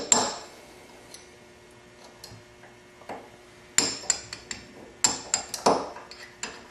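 A hammer taps out old rivets from an AK47 trunnion, giving a series of sharp metallic strikes, sparse at first and then a quicker cluster of hits, fairly faint and close.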